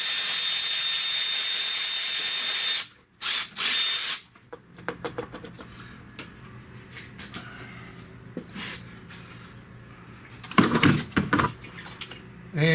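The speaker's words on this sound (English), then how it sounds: "Over here, we'll undo that last studded bolt." A ratchet or power tool undoes the last studded bolt on a 2008 Pontiac Torrent 3.4L engine during head gasket work, with a loud whirring burst at first, then a run of quick clicks and metallic clatter close by.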